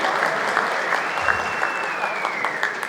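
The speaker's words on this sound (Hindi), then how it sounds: "एक बार जोरदार तालियां हो जाएं for the completion of 15 glorious years of SPP" Hearty audience applause at a grand dealer meet celebrating fifteen years, thick continuous clapping from a large crowd throughout, with a faint sustained tone drifting over it.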